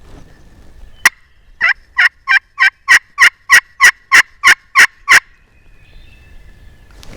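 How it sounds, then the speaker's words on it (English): A wild turkey gobbles in the woods on public land, a loud rapid series of about a dozen sharp, evenly spaced notes after a single click, then quiet. "He's gobbling."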